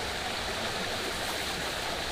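Water from a forest stream rushes steadily, a dense, even broadband roar that fills the whole clip at close range with no other sounds.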